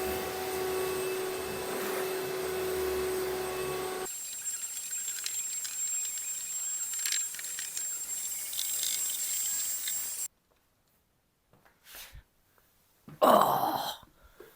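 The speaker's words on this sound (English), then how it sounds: "let me get the vacuum out now, vacuum all this up" Vacuum cleaner sucking debris out of a truck bed before spraying bed liner, a loud steady whine that shifts pitch when the hose changes position, then cuts off, followed by a few brief rustles and a cough-like sound.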